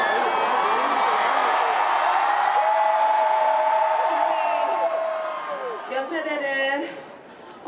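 A huge crowd roaring and cheering at the AKARAKA university festival concert, a continuous loud wall of shouts and screams with whoops rising above it, fading slightly near the end.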